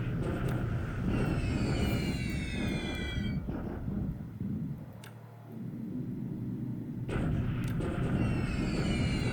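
Rumbling wartime bombardment from the War in the Pacific: AE strategy game, a continuous low roar with distant thuds, briefly dipping quieter midway before swelling back, with high whining streaks like passing aircraft at start and end.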